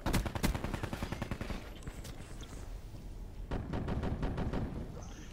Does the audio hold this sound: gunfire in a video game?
yes